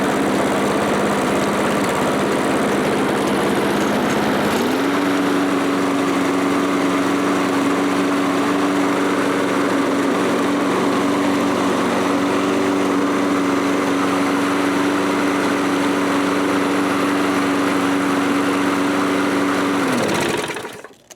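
An old MTD lawn mower engine idles steadily and loudly up close, a constant droning hum that shifts pitch slightly early on, holds evenly and then cuts off at the end.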